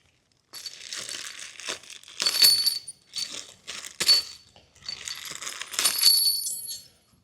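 Metal bolts, crush washers and split nut washers clink and rustle while being handled during assembly of a Halo Lifts Pro Series vehicle lift, in several close, brisk bursts of clatter with no talking.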